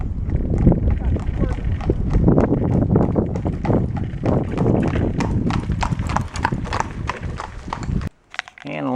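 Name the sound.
horse-drawn carriage hooves clip-clopping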